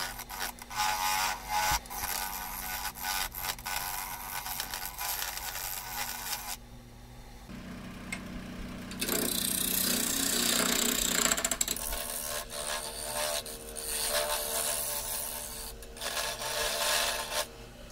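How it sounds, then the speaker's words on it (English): A skew chisel cuts a wooden bowl spinning on a woodturning lathe, making a close rasping, scraping hiss with steady motor hum underneath. The cutting pauses and resumes in rough bursts, and a louder stretch comes midway. "Now it's a skew chisel to make the mortise and the foot."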